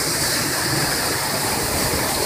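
The Santa Branca waterfall pours in a steady, loud, broadband rush of falling water with no break and no voices.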